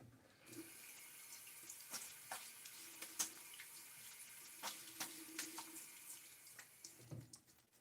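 A bathroom water tap runs steadily to rinse a razor during a wet shave, a soft continuous hiss broken by scattered clinks and splashes, with no talking.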